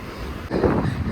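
Wind rumbles and buffets across the microphone, swelling into a louder gust halfway through.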